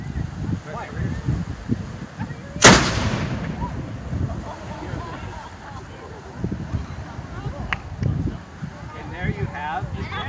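Historic cannon fired at a fort drill with a reduced powder charge, one sharp loud boom followed by a decaying rumble, amid wind noise and background chatter from onlookers.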